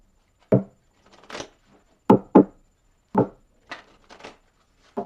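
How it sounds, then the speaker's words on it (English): Tarot cards being shuffled by hand in several short, crisp bursts separated by pauses, close and fairly loud, with no talking. "I'm going to shuffle them 3 more times"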